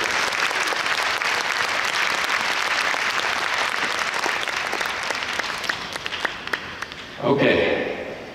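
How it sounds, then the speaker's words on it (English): An audience at an opening ceremony in an Olympic handball arena bursts into sustained applause, dense clapping from a large crowd that fades after several seconds before a voice returns over a loudspeaker. "Let's applaud that."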